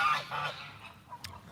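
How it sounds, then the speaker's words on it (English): Sunny Goose, a goose kept with other geese and a turkey on an animal farm, gives a few short, moderately quiet honks at close range, followed by a brief sharper call near the end. "Actually, that's Sunny Goose."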